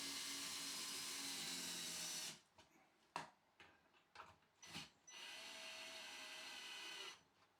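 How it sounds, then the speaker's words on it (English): A power tool whirs loud and steady while tightening screws into Corefix fixings on a dot-and-dab wall, with a pause of clicks and short bursts before it runs again and stops. "Then tighten all 3 screws."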